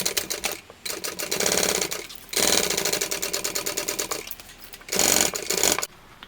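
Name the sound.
sewing machine stitching a tote bag seam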